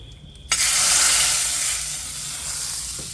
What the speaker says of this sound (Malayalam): ഇനി വറുത്തിടാം കടുക് ചുവന്നുള്ളി ഉണക്കമുളക് കൂടിയിട്ട്